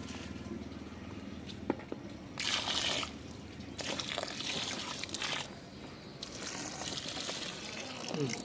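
Water poured from a container onto a potted plant in a terrace garden, coming in several bursts of splashing flow with short pauses between them, over faint background noise.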